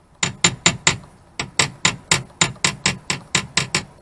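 Sharp tapping on a 1996 Sea-Doo SPX 717 jet ski, about sixteen close, loud knocks in quick irregular bursts with a short pause near the middle, no talk.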